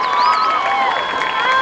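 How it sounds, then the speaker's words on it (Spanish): A concert crowd cheers and claps for the band, with shrill whistles and voices rising over a close, loud wash of crowd noise. "Aplauso fuerte para este grupo maravilloso,"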